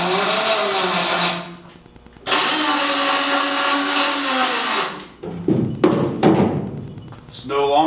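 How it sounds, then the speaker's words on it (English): Angle grinder cutting the rivet heads off a Chevrolet Silverado's metal panel, a loud sustained whine running in two long passes with a short pause between, then irregular clanks and bursts near the end. "all you got to do is just grind the heads of the rivets off and it'll pop right off there"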